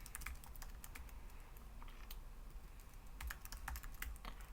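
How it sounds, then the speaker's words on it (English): Typing on a computer keyboard while setting up a FreeBSD desktop on a 10th Gen i3 Intel NUC: quiet, irregular key clicks in uneven bursts over a low steady hum, with no voices. "I'm now typing on the wrong keyboard."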